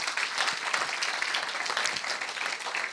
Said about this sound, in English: I'd like you to give a round of applause to Marvin for your wonderful presentation